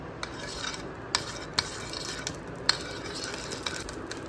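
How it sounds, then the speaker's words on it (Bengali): Ghee bubbles and sizzles in a pot while payesh is cooked, a continuous crackling hiss with sharp spoon clicks and scrapes against the metal, close and moderately loud, no talk. "ফুটছে, একটু জল আছে মনে হয়।"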